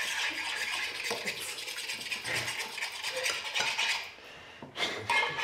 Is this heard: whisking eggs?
yes